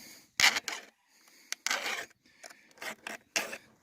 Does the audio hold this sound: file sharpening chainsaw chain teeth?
yes